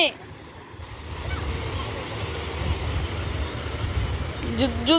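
Sea waves washing up on the beach at Mandarmani, a steady broad wash of surf with wind buffeting the microphone, a brief voice at the end.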